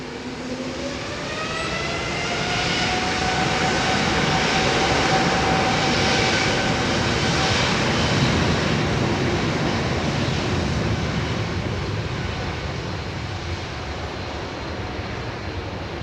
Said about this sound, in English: Dash 10 Dreamliner, powered by the Trent 1000-10.